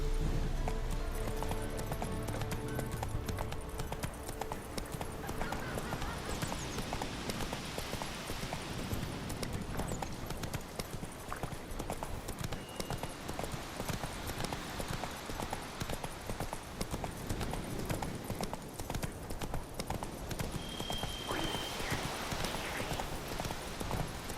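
Roach, the horse in The Witcher 3, gallops steadily with a rapid, continuous clip-clop of hooves that stays close and fairly loud across the whole stretch.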